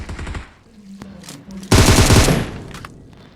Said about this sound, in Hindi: अपार्टमेंट से बहुत देर से फायर आ रहा है